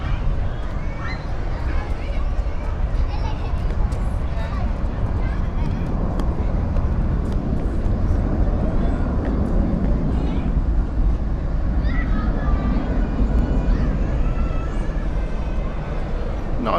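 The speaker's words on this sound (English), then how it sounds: "Here's our British Airways flight." British Airways airliner at Zurich Airport, bound for Heathrow, producing a loud, steady jet roar that fills the whole stretch while a person talks over it.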